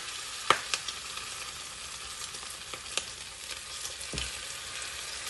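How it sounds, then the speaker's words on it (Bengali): Chicken pieces deep-fried one by one in oil over low-to-medium gas for chilli chicken: a soft, even sizzle with occasional pops and faint utensil knocks, no speech. "আমি একে একে এগুলো ভেজে নিচ্ছি।"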